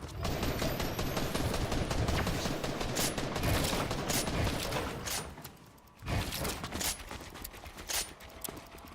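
Video game gunfire rattles in rapid, sustained bursts over a dense background din, with a brief lull near the middle before more scattered, loud shots resume.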